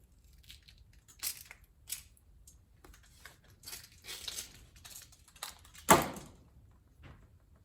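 A hook blade slices into an old rubber golf club grip, giving a series of short scraping, crunching strokes with one louder tearing rip near the end, close up and with no talk.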